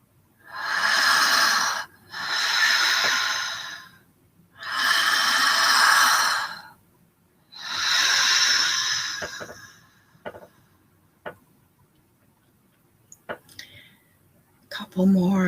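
Four long, deep breaths during a guided breathing exercise, each a loud airy rush lasting about two seconds with brief pauses between them, followed by near silence and a few small clicks.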